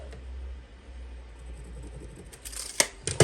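Scissors or a cutting tool snipping a piece into a square, a few sharp cuts near the end after quiet handling noise.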